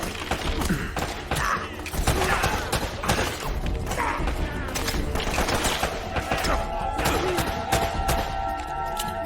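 Gunfire bursts crackle through the Uncharted video game action, dense volleys and single shots layered over explosive thumps and music at steady loudness across the span, with faint talk mixed in.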